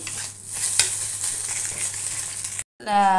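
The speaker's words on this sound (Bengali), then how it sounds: "এদিকে ডিম ভাজছি" Egg frying in oil in a pan, a close steady hissing sizzle with a few small pops, cut off abruptly by a brief gap and a different tonal sound at the end.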